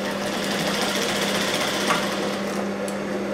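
Sewing machine running steadily while double-stitching a seam on a blouse made over from an old one, a continuous close mechanical hum without pauses.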